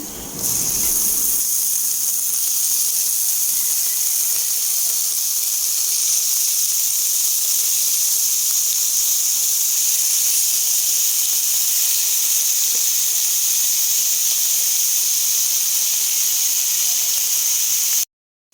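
Chicken pieces hit hot oil in a pot with onions and set off a loud, steady hiss that holds evenly for many seconds, with no talking.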